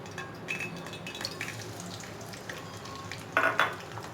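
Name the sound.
chopped onions added to hot oil, sizzling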